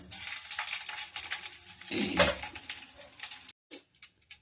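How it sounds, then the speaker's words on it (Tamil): Fennel and poppy seeds fry in hot oil for Chettinad pepper chicken, giving a close crackling sizzle with stirring scrapes and a louder burst near the middle before it cuts off, then a fainter hiss. "எண்ணெய் காஞ்சிடுச்சு. சோம்பு கசகசா சேர்த்துக்கலாம்."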